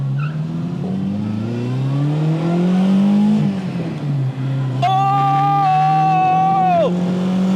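An 8500 rpm Honda S800 imported from the UK revs under throttle in first gear: a loud, close engine note rises in pitch, dips briefly, then climbs again to a high, steady wail, with no talking over it.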